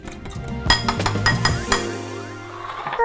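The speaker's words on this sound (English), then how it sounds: "And we whisk this together." A whisk works spices, onion powder, agave, salt and pepper together into a dressing in a bowl, giving a quick run of bright metallic clinks and rattles against the sides that taper into softer ringing.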